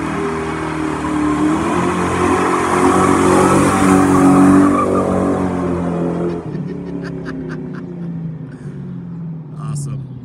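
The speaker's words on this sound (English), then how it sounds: "See if we get a good burnout on this one." A car with a new suspension modification does a burnout: a loud, close engine roars and tires screech for about six seconds, then quieter rumbling as people talk.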